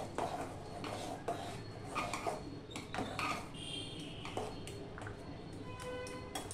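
A spoon stirs cumin, chili and turmeric powder in a pot while cooking khichuri, with repeated metallic scrapes and clinks against the pot in an uneven rhythm, close and fairly quiet, and a voice talking now and then.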